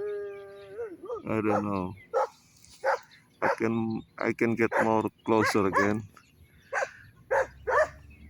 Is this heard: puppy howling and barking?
yes